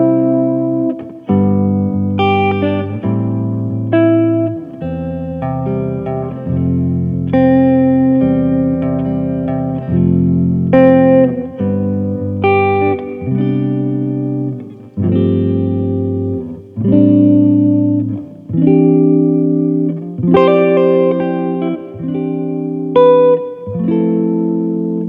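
An electric guitar strums a slow chord progression, each chord ringing out with some effect and reverb, no voices.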